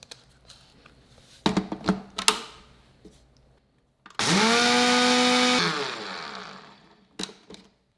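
A blender roars at high speed for about two seconds, grinding erythritol into fine powder, preceded by clattering and knocks; a few clinks follow after it stops.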